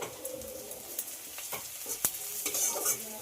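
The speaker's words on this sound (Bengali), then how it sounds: "রসুনের কাঁচা গন্ধ যতক্ষণ না যায় ততক্ষণ ভেজে নিতে হবে।" Grated garlic fries with lightly browned onions as it is stirred, a quiet sizzle broken by short scraping strokes of the spoon against the pan at an irregular pace.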